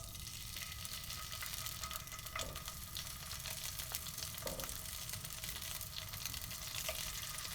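Tofu hits a hot pan and sizzles in a steady, continuous fry that fills the whole stretch, with a few faint clinks near the middle and toward the end. No one speaks.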